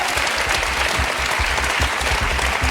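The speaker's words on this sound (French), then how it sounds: "le public vous applaudit" TV quiz-show studio audience applauding steadily, a dense, even clapping from a seated crowd that stays loud throughout.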